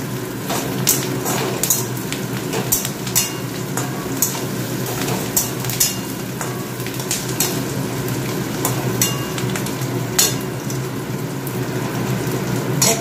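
Mutton pieces frying with lightly browned onions in a pan, a dense continuous sizzle with scattered clicks and scrapes of stirring, close and steady throughout.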